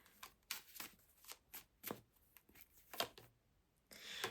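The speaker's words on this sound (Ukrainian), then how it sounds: "З кожної колоди я витягаю по три карти" Tarot cards are shuffled and riffled close up in quiet bursts of papery flicks, ending with a longer rapid riffle.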